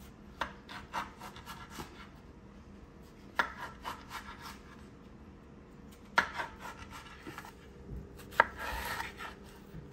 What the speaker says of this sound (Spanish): Y después los voy a cortar en pedacitos.